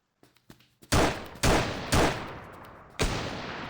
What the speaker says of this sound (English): you can see that the enemy is shooting at us with the sniper